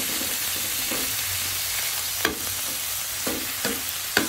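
Adobo flakes fry in a pan with a steady, close sizzle, and a few sharp scrapes and clacks of a utensil punctuate the second half.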